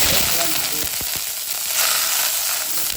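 Chicken fries in sesame oil in a pan on a stove, a loud, dense, steady sizzle with crackles and a few stirring knocks close by.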